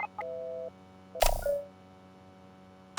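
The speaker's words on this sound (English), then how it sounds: "Somebody pick up the phone." Telephone keypad tones in the video game The Lonely Assassins: a couple of short beeps, a steady dial tone lasting about half a second, then a sharp click and a ringing chirp, followed by a quiet pause and another brief beep.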